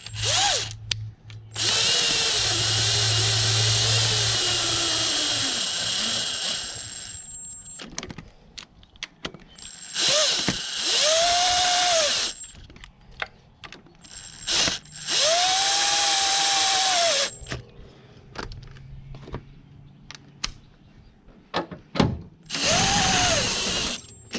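A power drill drives screws into aluminum during a motor mount replacement on a 2004-2010 Chevy Cobalt or Pontiac G5. About five whirring bursts, each ramping up and winding down, are separated by short pauses and faint clanks.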